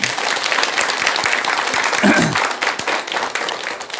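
An audience at a Buddhist monk's lecture on fulfilling wishes applauds in a steady, close roar of clapping, with a brief voice rising partway through.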